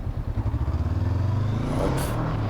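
A motorcycle engine runs loud and close during a French A2 licence exam exercise, its tone pulsing and then holding steady as the bike works through an emergency stop.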